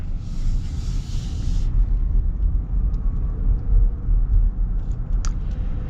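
A 2024 Rivian R1S electric SUV driving, a steady low rumble of road and tire noise from inside the cabin with a faint whir and a brief high whine at the start.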